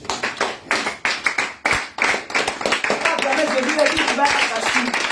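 A congregation claps rhythmically at a prayer meeting in Yopougon, with quick, close hand claps under loud voices acclaiming and chanting together, growing into dense sustained applause.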